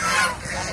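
A single loud, close goose honk, a brief nasal call that swells and then trails off, from domestic geese kept by a seller.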